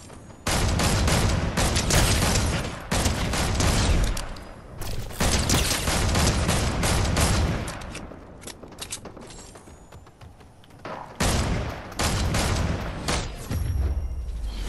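Rapid video game gunfire in repeated loud bursts, with mechanical clatter between volleys and a brief lull partway through before the shooting resumes.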